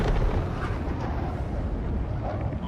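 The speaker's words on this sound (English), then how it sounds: "Always with the fireworks." Fireworks explosions burst over an extraction in the Helldivers 2 video game, a dense, continuous rumble of overlapping blasts and crackle that stays loud and unbroken throughout.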